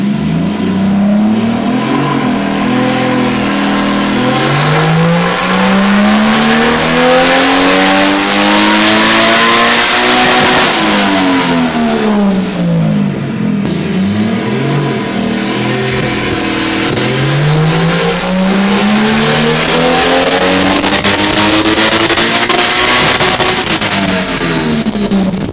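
Nissan 240sx with an RB20DET engine on E85 revs hard on a dyno, loud rising and falling sweeps repeating twice across the run, continuous and close with no talk.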